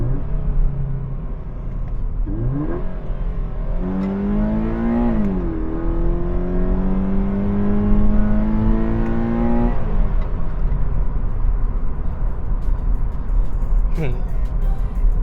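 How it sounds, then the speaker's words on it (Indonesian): A 2018 Toyota 86 facelift in TRD form is revved and thrown into a drift. The engine note rises, falls and then sweeps upward again in sustained pulls, loud and close, while tyre and road noise whirs underneath. "kalau kita gas gini, dia bisa ngedrift"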